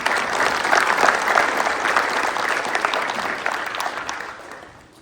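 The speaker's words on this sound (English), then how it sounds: "So I want to give a round of applause to those amazing businesses who support us." A round of applause for supporting businesses at a student-of-the-month event, dense clapping from an audience that holds steady and then tapers off at the end.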